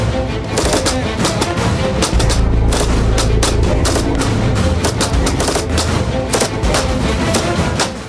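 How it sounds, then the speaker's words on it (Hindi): Gunfire in a battle between Afghanistan and the Taliban, dense loud volleys of rapid shots and booms crackling continuously at close range without pause. "यहाँ गोलियों की बौछार के आगे डटे हैं सुमित चौधरी।"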